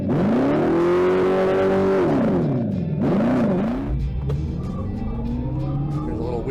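A 2025 Dodge Charger EV launches hard in track mode off brake torque: a loud, close tonal whine climbs and holds, drops away, swells briefly once more, then settles into a lower rumble with road and tire noise.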